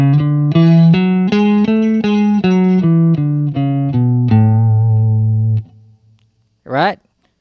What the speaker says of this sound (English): And the major scale sounds like this.